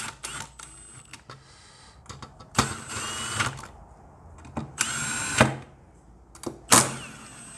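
A power tool torques bolts on an MG drive unit during an OpenInverter board install, firing in several short, sharp whirring bursts with quiet gaps between them, close and fairly loud.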